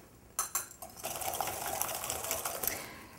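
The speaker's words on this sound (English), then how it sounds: "And then I'm going to put 2 eggs with some sugar and whisk them together." Two eggs and sugar whisked together in a mixing bowl for chocolate chunk muffins: a quick, steady scraping and clicking of a whisk that starts after a few light taps and runs continuously, close and alone.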